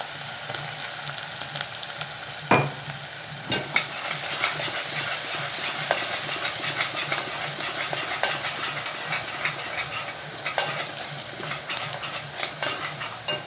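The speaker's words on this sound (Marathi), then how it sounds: "आता कांदे टाकायचं आपण टाकूया थोडंसं लसूणची पेस्ट" Onions and garlic paste fry in hot oil with a broad, steady hiss and sizzle, close and fairly loud. A few sharp clinks of a utensil break in, and no voices are heard.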